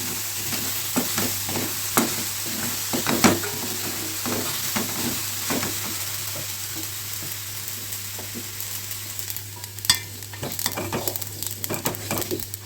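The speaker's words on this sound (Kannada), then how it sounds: "ಈಗ ಚಟ್ಪಟ್ಟನ ಆಗ್ತೈತಿ." Tomatoes sizzle and crackle in a hot pan for the whole stretch, with a steady frying hiss broken by scattered pops and the scrape of a stirring spoon.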